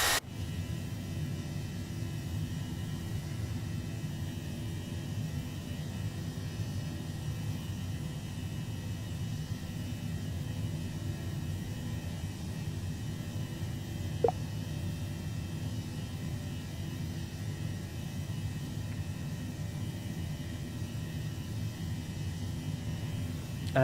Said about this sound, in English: It's got a CFM buzzsaw, not the Leap 1As that the Neo had.